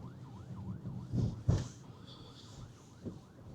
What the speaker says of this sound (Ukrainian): Вон пожежні вже їдуть.